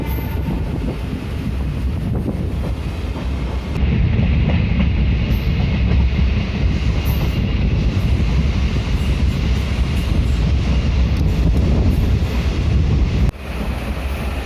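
A DEMU train runs through Borodighi station on the main line without stopping, a loud steady rumble and rush of wheels on rail with wind noise, swelling heavier midway and holding continuously with no talk.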